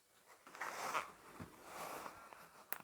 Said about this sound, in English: And then push the slider forward.